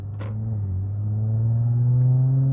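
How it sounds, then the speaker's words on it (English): A Lexus IS250 engine with a louder aftermarket exhaust drones steadily and rises in pitch as it revs, with a deep, throaty exhaust rumble growing slightly louder, close by, with no talking. "now I can hear what the engine is doing"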